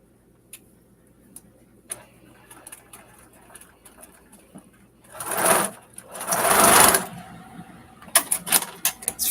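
A household sewing machine stitching with thread gives soft, sparse ticks, then two close, loud runs of fast mechanical whirring and clatter, followed by a few sharp clicks.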